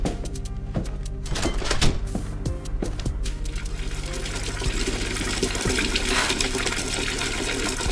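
Cartoon peeing sound effect in a Plotagon animated short: a steady running liquid trickle and splash lasting the whole stretch, fairly loud and continuous, with background music or tones layered in.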